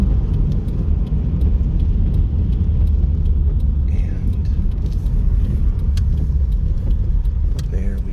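Car cruising along Boulder Highway in East Las Vegas, heard from inside as a steady, loud low road rumble and engine drone with faint rattles and clicks, no talk.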